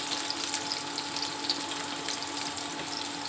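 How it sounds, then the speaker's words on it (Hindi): Onion frying lightly in a pan with jakhya and mustard seeds, a steady close hiss of sizzling oil with faint crackles running throughout, no voices. "और मैं डालती हूँ उसमें प्याज। तो मैं हल्का भूनूंगी"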